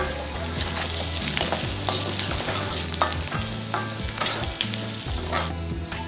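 Papaya pieces fry and get stirred in hot oil with curry leaves, a continuous close sizzle broken by repeated scraping strokes of a spoon against the pan.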